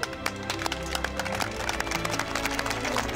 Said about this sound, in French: c'est nous tous qui vous applaudissons très fort